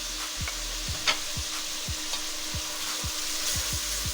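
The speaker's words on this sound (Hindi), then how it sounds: "मसाले को अच्छी तरह भूनेंगे।" Ground spices (turmeric, coriander, red chili, crushed chili and salt) fry in a pan for palak beef curry, a continuous sizzle broken by regular scraping strokes of a spoon stirring about twice a second.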